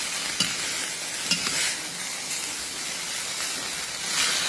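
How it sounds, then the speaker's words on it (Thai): Water mimosa is stir-fried over high heat, giving a continuous hissing sizzle that is close and fairly loud, broken by occasional quick scrapes of a spatula against the pan. "ผักกระเฉดผัดนานไม่ได้ค่ะเพื่อนๆผัดนานแล้วก็จะทำให้ข้าวเหนียวเนาะ"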